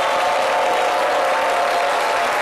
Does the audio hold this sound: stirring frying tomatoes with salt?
no